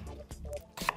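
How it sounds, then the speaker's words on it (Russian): A knife cuts washed, unpeeled potatoes into rounds on a board, making a few quick, quiet chopping strokes spaced unevenly. "Смотрите, я нарезаю вот такими вот"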